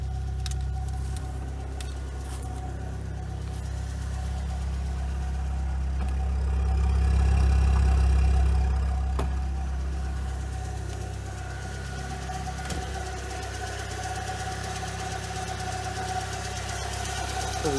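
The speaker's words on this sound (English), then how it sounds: "I think it might need a new auxiliary belt, but it's a little bit whiny" A car engine idles steadily with a faint whine from a worn auxiliary belt, the low hum rising briefly and falling back, with no talking.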